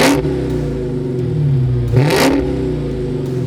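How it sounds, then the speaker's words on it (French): A Dodge Hellcat's supercharged 6.2-litre Hemi V8 roars through a dual exhaust in track mode, holding a loud sustained rev with a sharp blip midway, no voices over it. "on a aussi un échappement double qui fait un très beau bruit quand on le met en"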